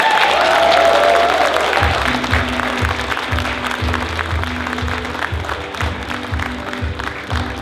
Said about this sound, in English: Please give another big round of applause for Mal Hingston